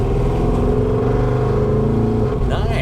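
A 1985 GMC Jimmy's engine revs steadily with a dense, loud mechanical drone, pitch shifting slightly toward the end; a voice is faintly present under the engine.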